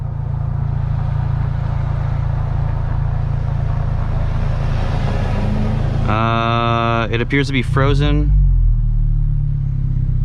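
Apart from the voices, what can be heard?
car engine running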